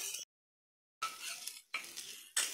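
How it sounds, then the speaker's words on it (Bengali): Rice stirred and fried with oil and onions in a pan, heard as close bursts of scraping and sizzling separated by a short gap of silence, with no talk. "এরপর চালগুলোকে ভালো করে নেড়ে চেড়ে তেল পেঁয়াজের সাথে ভেজে নিতে হবে।"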